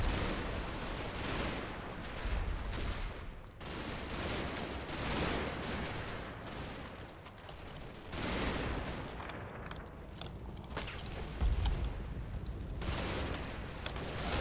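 Rattling bursts of WWII-era small-arms and machine-gun fire from the Combat Mission war game crackle in repeated volleys, some heavier booms mixed in, fairly faint and continuous with no pauses.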